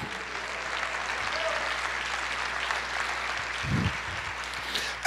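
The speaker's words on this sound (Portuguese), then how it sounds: "Aplauda, Senhor." Congregation clapping during a church sermon, a diffuse, moderate wash of applause held steady throughout with a low thump near the end.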